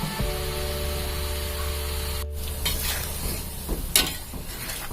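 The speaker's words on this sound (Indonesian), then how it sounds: "Nah, ini kuahnya sudah mengental, sudah mendidih, sudah menyusut dari yang tadi." Thickened red chilli broth for Palembang laksan bubbling and simmering in a pot, a steady close hiss with soft bursts and a couple of brief clinks near the end, no voices.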